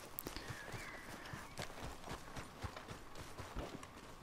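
Horse hooves clip-clopping in Red Dead Redemption 2, a steady run of soft hoof falls over a continuous game ambience, with no talk over them.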